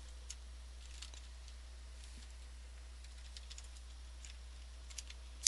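Shortcut command typed on a computer keyboard for a Windows 8 shutdown shortcut: faint, soft key clicks tapping irregularly over a steady low hum, with no talking.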